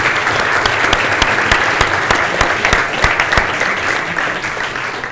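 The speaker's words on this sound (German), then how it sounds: "Ich glaube, an dieser Stelle ist ein Applaus für alle angebracht." Audience applause at a lecture on the Anthropocene, a steady dense wash of clapping with a few sharper individual claps standing out, loud and continuous, no talk over it.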